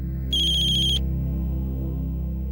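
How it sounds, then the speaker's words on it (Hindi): A phone ringtone chirps once for an incoming call, a bright electronic tone lasting under a second over a steady low hum. "बाबा का फोन आया है।"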